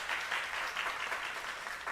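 Church congregation applauding in welcome of visiting missionaries, a steady, moderately close wash of clapping from a seated crowd, even and sustained throughout with no voices on top.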